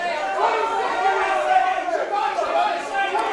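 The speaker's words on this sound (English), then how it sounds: "You can hear the crowd going wild." A crowd at a jiu jitsu team tournament, many overlapping voices shouting and chattering in a dense, steady din across the whole stretch.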